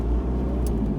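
Rover Maestro Clubman with a 2-litre turbo diesel engine under way, a low, steady rumble from inside the car with a brief high tick near the end.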